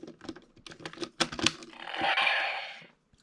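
Charger clicked into a Power Rangers T-Rex Supercharge Morpher toy: a burst of sharp plastic clicks and taps followed by a short electronic whooshing chime from the toy, close and clear, with no talking.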